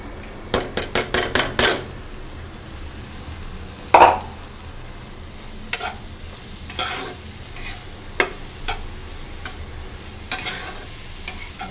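Carrots and tomato being stir-fried in a pan: a quick burst of scraping stirs up front, then sporadic spoon clinks and scrapes over a soft, steady sizzle, close by with no talking.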